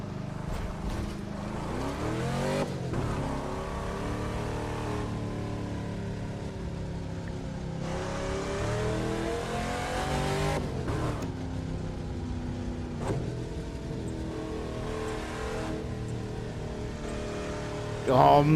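Pink Cadillac driving in The Crew 2, engine droning steadily with repeated rising revs and gear shifts, moderately loud under a talking voice.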